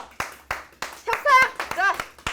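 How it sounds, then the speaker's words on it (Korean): A union audience during a Hyundai Motor wage negotiation gathering claps in short, separate bursts, sharp hand claps at a steady spaced rhythm, while a voice cries out loudly over the middle of the claps. "여러분들 박수 치시죠"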